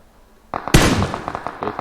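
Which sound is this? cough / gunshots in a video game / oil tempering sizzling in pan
gunshots in a video game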